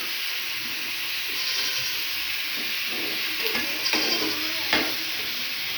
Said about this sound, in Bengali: মাছটা দিয়ে একটু নাড়াচাড়া করতে হবে, বেশি করে নাড়াচাড়া করে নেব ভালোভাবে